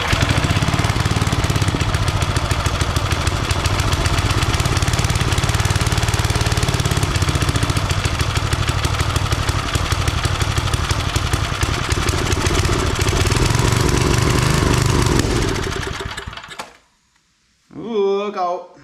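A homemade wood splitter's small engine runs loud and steady for about fifteen seconds with a rough, rattling drone, then cuts out abruptly, followed by brief faint sounds and a short burst near the end.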